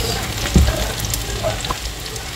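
Ginger, garlic, onion and carrots sizzle in hot cooking oil for sweet and sour lapu lapu, a steady close frying hiss with a thump as the vegetables go in and light stirring.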